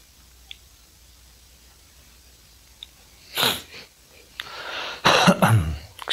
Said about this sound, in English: That was my throat, clearing my throat there.